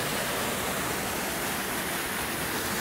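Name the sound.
waterfall of underground river flowing from a wall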